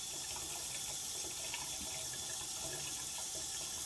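Water splashes steadily and continuously at close range during a facial skincare routine, a constant wet rush with no voices.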